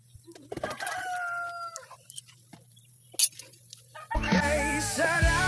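A rooster crows loudly and close by, one drawn-out call early on, then a second strong crow near the end, with scattered clucks and faint bird sounds between them.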